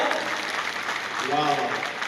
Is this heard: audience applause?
yes